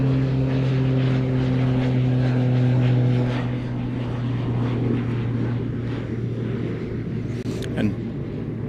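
A Cessna Caravan fitted with a cargo pod drones steadily nearby, its propeller engine giving a sustained tonal hum that swells and then eases slightly, with a brief sharp click near the end.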